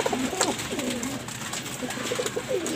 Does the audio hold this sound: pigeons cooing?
yes